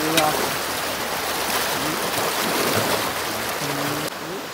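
Strong irrigation water flowing down from the mountain onto farm fields, a steady, loud rushing wash that stays continuous throughout, with faint voices briefly audible under it.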